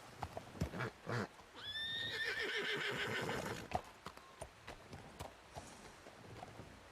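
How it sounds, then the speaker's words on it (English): A horse in a Red Dead roleplay game gives a clear, drawn-out whinny, with hoof clip-clops and a few sharp knocks before and after it, heard fairly close against a quiet background. "There's a horse over there at the station."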